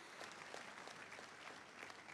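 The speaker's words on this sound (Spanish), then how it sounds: "Vamos a aplaudir a Jesús." A church congregation applauds with dense, steady clapping that lasts a couple of seconds, heard somewhat faintly and without voices.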